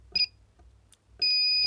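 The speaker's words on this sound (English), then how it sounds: "It also has a continuity tester, which buzzes." A continuity tester's buzzer sounding when its probes are shorted together: a short beep, a pause with faint handling noise, then a loud sustained electronic tone that holds steadily to the end.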